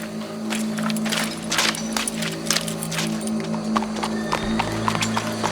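Horse hooves clip-clop steadily on the ground in Red Dead Redemption 2, a loud, close, even rhythm of hoofbeats over a humming game backdrop.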